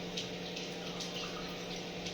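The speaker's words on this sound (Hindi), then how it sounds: "पानी दे दी" Water pours steadily into a cooking pot of homemade masala, a continuous close splashing stream with no talk over it.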